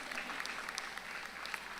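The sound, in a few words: audience applause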